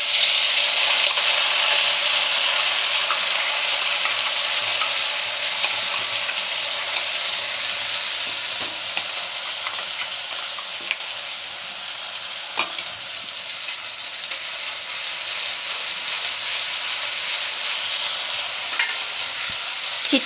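Paste frying in hot oil in a pan while making capsicum paneer, a loud steady sizzle with scattered spatters and occasional stirring scrapes, close up and without voices.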